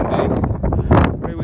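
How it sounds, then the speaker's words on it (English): Wind buffets a microphone outdoors in open UK countryside in March, a steady, rough rumble that swells and eases for a moment. "It's very windy"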